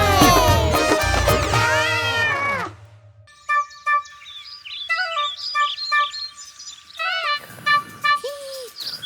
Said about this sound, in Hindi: म्याऊ म्याऊ म्याऊ म्याऊ करती है बिल्ली